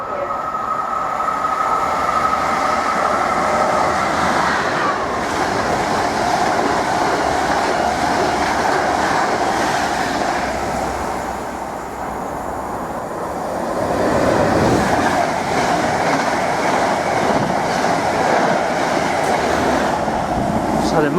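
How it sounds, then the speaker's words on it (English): A Class 90 electric locomotive hauling a Mark 3 passenger set races through a station at line speed, a loud sustained rumble with rail clatter and wheel squeal that swells and eases as it passes. "So the Mark 3 set charged through, en route to Norwich."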